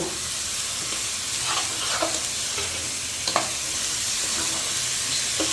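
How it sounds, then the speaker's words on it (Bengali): Washed rice and lentils fry in oil for egg khichuri, a steady sizzle under repeated stirring scrapes and light clacks of a spoon against the pot. "আমি এভাবে করে চাউলগুলো ভেজে নেব"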